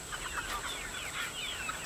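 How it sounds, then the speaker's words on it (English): Meat chickens on an orchard farm cluck softly and steadily, a faint, somewhat distant murmur of fowl chatter that runs throughout with no talking. "my meat chickens"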